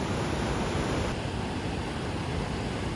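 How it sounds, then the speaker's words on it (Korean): Ocean surf breaking against the shore on the Aoshima coast in Miyazaki, Japan, a steady broadband wash of rolling waves close by, with no voices. "낯선 이방인을 반기지 않는 것인지 파도가 나를 향해 매섭게 몰아치고 있었다."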